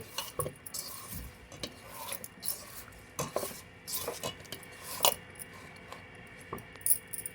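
Chopped brinjal pieces for a village-style pond fish curry are stirred in a metal pot, producing irregular scraping clinks and soft squishy knocks of spoon against vessel, fairly faint with no talking.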